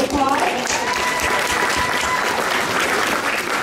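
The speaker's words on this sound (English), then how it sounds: "Let's give him a round of applause." Applause from a crowd gathered at a grocery market ribbon-cutting ceremony honoring a reverend, steady and even clapping from many hands throughout, with faint voices mixed in.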